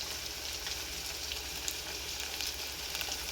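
Onions and tomatoes fry in a pan for fish curry, giving an even, continuous sizzle that stays fairly quiet and steady throughout, with no voices.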